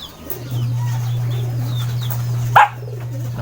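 Soft cooing and chirps from pigeons over a low steady hum, with a sharper bird call or flutter standing out briefly.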